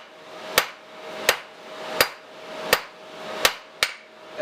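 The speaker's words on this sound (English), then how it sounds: "hit where your forging starts and stops to blend in and extend" A hammer strikes a blacksmith punch on the anvil to forge its taper, six sharp ringing blows about one every 0.7 seconds, close and clear with no talking.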